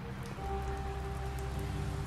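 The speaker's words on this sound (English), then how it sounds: "It's raining." Rain falls steadily in a video game scene, a soft constant patter with low rumble beneath and a thin tone running through, no voices.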